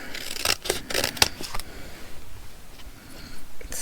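Scissors snipping through a stitched paper piece, several crisp close cuts in quick succession, then quieter rustling and handling.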